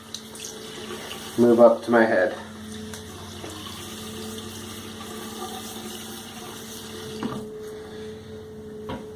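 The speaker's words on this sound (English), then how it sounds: "I'm going to throw a little water on my head" Water runs steadily from a tap into a sink nearby, with a brief spoken phrase early on over the flow.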